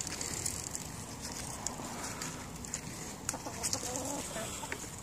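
Chickens and chicks on a farm cluck and murmur in a busy, overlapping flock, close and moderately loud, with a few sharper calls standing out against a steady outdoor background.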